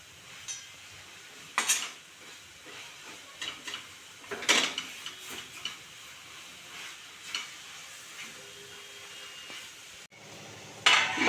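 A spoon stirs gram flour into fenugreek greens in a pan, with scraping and soft clinks of utensil on metal, an occasional sharper knock, and a louder clatter at the end over a faint background hiss.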